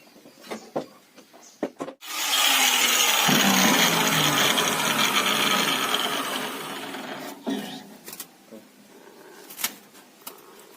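A power tool cuts through seized bolts on a Bajaj autorickshaw during a diesel engine restoration, a loud continuous grinding rasp lasting several seconds, preceded by scattered clanks and followed by tool knocks.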